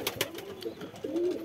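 Domestic pigeons coo in a close, soft roll of low throaty calls, a couple of short coos followed by a longer rising and falling one, alongside a few faint scuffs.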